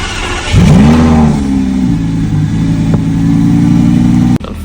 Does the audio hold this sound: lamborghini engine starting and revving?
yes